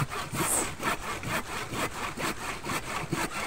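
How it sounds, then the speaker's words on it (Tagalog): A hand saw cuts through a diseased cacao branch during pruning, with quick, regular back-and-forth strokes rasping through wood, close and clear, with no voices. "gagamit lang kayo ng lagari pag malaki ang sanga na puputulin"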